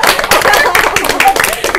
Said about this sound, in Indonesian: Oke, tepuk tangan teman-teman ya.